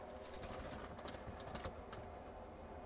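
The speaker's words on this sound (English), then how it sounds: "Oh, we seem to have a bird." A pigeon trapped in a hot allotment garden shed during a heatwave makes faint, close bursts of fluttering and cooing in the still interior.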